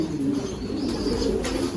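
Pigeons coo softly and continuously in a loft housing Madrasi, Longduma and Pakistani breeds, a low steady murmur close by with no talk.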